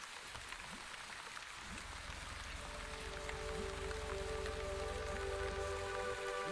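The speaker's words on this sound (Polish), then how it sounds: "Swoją drogą uważam, że dźwięk padającego deszczu jest niezwykle uspokajający." Steady rain of large drops falling in the video game The Wandering Village, a dense even patter that grows slightly louder and fuller partway through, heard alone without talk.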